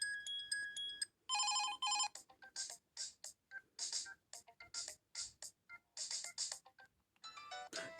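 A ringtone plays on an HTC Magic phone, preceded by other short electronic ringtone tones: bright, clipped melodic notes in a quick, clear rhythm, close and fairly loud, with no talking.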